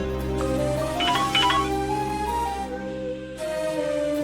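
A phone's melodic ringtone plays for an incoming call, steady and fairly close, in a short sequence of bright tones over a soft background with no talking.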